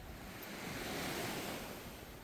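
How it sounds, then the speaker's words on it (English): Surf on a Florida beach rolls in under strong wind, a continuous broad wash of breaking waves with wind rumble on the microphone, steady and fairly loud. "when the wind switches, a lot of times that kicks up the surf"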